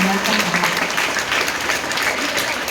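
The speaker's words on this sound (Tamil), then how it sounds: "மிகப்பெரிய பாராட்டுகளை கைத்தட்டங்களாக ஆசிரியர்கள்" Audience applause for teachers during a speech at a school gathering, a dense, even burst of clapping from a crowd, with some voices mixed in.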